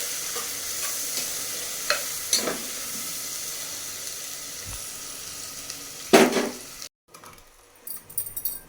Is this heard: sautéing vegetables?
yes